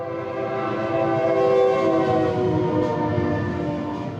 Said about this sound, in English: I'm going to wait for the train to pass by before I continue speaking here.